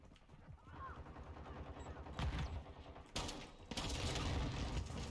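Call of Duty MW2 gunfire crackles in bursts, quiet at first then growing louder with sharp surges, while a person talks over it.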